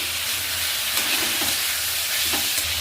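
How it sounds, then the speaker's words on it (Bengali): Pieces of meat, seasoned with salt and turmeric, fry and sizzle steadily in a pan alongside vegetables, with a few soft stirring scrapes; no voices. "এবার আমি মাংসের টুকরোগুলো দিয়ে দেবো"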